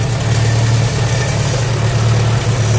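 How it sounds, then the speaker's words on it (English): A 1938 Allis Chalmers B tractor engine, just started after full choke and smoking a little, idles loud and close with a steady, low, throbbing rumble and no talking. "Went full choke and she started, and I just took it off choke."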